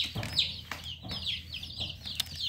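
Chickens cluck in a repeated, close rhythm of short, sharp calls, with faint rustling and no talking.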